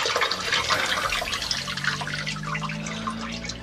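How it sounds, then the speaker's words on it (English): Water gushes and trickles out of an old toilet fill valve as it is pulled, draining into a bucket placed underneath, close and steady for a few seconds without speech. "And here's the old one. All the water runs out."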